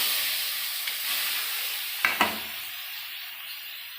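Soybean chunks and boiled potatoes land in a hot pan and fry with a continuous close hiss, broken by a sharp splashing burst of sizzle near the middle.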